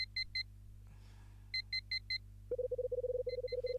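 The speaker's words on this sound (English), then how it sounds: "Guess the only way to stop that damn beeping is to get up and hit it myself." Repeated electronic alarm clock beeps from the video game The Last Window: The Secret of Cape West on the DS, bursts of paired tones, then a rapid continuous beeping run, alone over a steady low hum.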